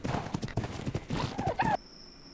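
A horse gallops in Ark Survival Ascended with the Gaia mod. Quick, steady hoof clip-clops sound close and clear for under two seconds, then stop abruptly, leaving a faint high tone.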